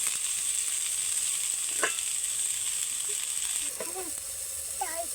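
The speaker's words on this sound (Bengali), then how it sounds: "ভেজ মোমোর এই পুরটা বানানোর জন্য সমস্ত কিছু সবজি একসঙ্গে দিয়ে কিন্তু ভাজতে" Vegetables frying in a pan for veg momo filling, with carrot, cabbage, capsicum, onion, tomato and green chilli, give a steady loud sizzle throughout, broken by a few light scraping and clinking stirs near the end.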